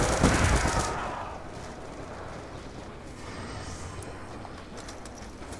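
Gunfire in Black Ops 2 Zombies Grief mode on the Town map: a burst of loud close shots at the start, then quieter distant rattling fire and game noise rumbling underneath.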